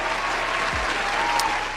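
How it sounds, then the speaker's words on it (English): A crowd gives a brief round of applause, dense and continuous, fading slightly at the end. "Give him a round of applause."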